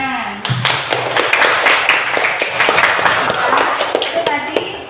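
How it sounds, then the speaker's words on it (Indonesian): Students in a classroom clap after a group presentation, a loud, busy patter of hand claps that begins just after a short spoken phrase and carries on with voices mixed in. "Ya, tepuk tangan."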